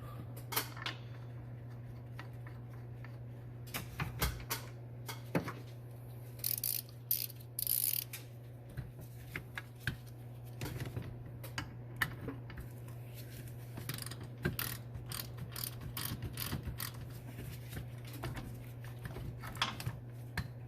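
A ratchet starts a bolt during relocation of an ABS unit for a VMAC VR150 underhood install, giving faint, scattered clicks and short ratcheting bursts over a steady low hum, with no talking.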